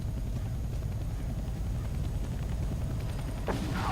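A video game helicopter's rotor chops steadily with a low, continuous thrum, close and unbroken, and a brief whoosh lands near the end.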